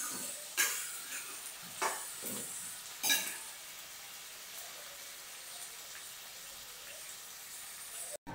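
Onions sizzling in a pan while being cooked down for chutney, a soft steady frying hiss broken by a few sharp stirring scrapes of a spoon against the metal.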